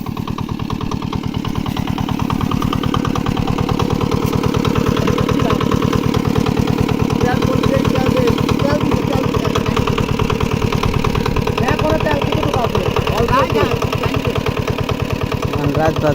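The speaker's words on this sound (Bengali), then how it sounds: "মেশিন স্টার্ট করছে কেবল" A pump machine engine at a pond catches and runs in a steady, close, loud putter with a fast, even rhythm that never lets up.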